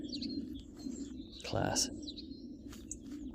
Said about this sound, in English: Thank you, birds, for joining me